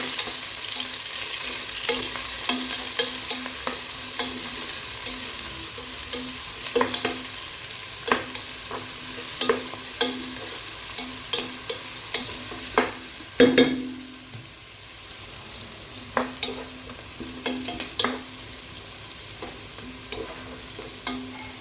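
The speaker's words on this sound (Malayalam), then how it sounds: "ചൂടായ എണ്ണയിൽ ഒരു ചെറിയ ഉള്ളി ചെറുതായി കട്ട് ചെയ്തത് ഇട്ടെടുത്ത് നന്നായി വഴറ്റുക." A chopped small onion sautés in hot oil for chicken kabsa, a steady sizzle running under repeated scraping and clinking stirs of a spoon against the pan, one louder knock midway, no talking.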